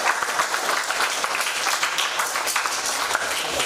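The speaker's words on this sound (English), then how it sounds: "Students, I want you to applaud the efforts of the facilitators." Audience at a summer school closing ceremony applauding facilitators, dense continuous clapping from many hands at moderate distance, steady throughout.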